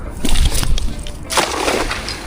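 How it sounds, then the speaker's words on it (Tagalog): Water sloshes and splashes close by in a couple of quick bursts as a fishing net is thrown from a boat into the sea. "tiyagaan lang ulit sa paghahagis ng lambat"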